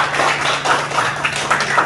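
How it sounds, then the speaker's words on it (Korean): Applause from an audience at a silver-generation film production announcement, greeting a film producer, sounds as a short, loud patter of overlapping claps with some individual hand strikes standing out, lasting under two seconds. "힘찬 박수를."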